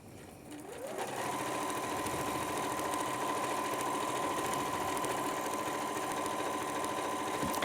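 A sewing machine stitching around the edge of a fabric pouch, starting after a moment of quiet and then running at a steady, even whir close by for several seconds.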